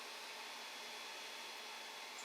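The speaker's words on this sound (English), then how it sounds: "it goes to this filter fan, which has a HEPA filter and carbon filters in" A 3D printer's filter fan with HEPA and carbon filters runs as a steady, faint broadband whoosh, even and unbroken throughout with no talk.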